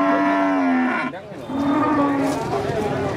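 Limousin and Simmental cattle at a livestock sale, with two loud, drawn-out moos nearby separated by a short pause, and faint voices in the background.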